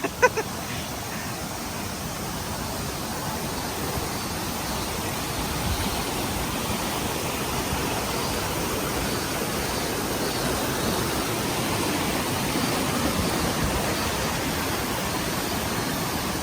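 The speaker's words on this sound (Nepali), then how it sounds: "यही खोला देख्न सक्नुहुन्छ" Steady broadband rushing of a stream flowing through the interior of Akiyoshido cave in Yamaguchi, Japan, a continuous even wash of water with no clear breaks and no talk over it.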